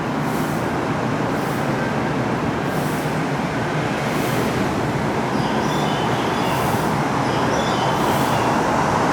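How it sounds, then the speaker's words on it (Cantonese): A Hong Kong light rail train rolls into platform 1 at Lung Mun stop, a loud continuous rumble and rush of wheels on track with faint squeals above, holding steady throughout without any talking. "即將駛入1號月台嘅列車"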